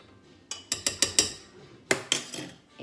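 Whoopie pie batter mixed by hand in a bowl, the spoon knocking and clinking against the sides in a quick run of sharp hits, a pause, then a few more, with no talking.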